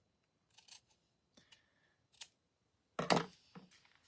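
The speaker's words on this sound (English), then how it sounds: "So I'm gonna cut it down here." Several short, crisp snips of scissors cutting paper for a journal craft, in sparse separate bursts with quiet pauses between, the last cut louder and closer.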